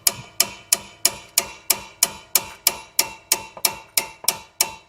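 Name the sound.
hammer striking while replacing struts on a Chevy Traverse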